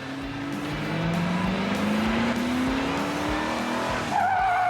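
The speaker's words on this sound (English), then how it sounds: "Even though Brian slides in perfectly sideways and hits the very end of the strip" A car slides sideways onto a spike strip, with a rising tire squeal and a steady engine roar close by, ending in a short harsher screech.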